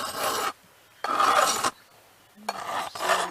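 A file is drawn across the depth gauges of a chainsaw chain in three close, loud, raspy strokes, each about half a second long, separated by brief pauses.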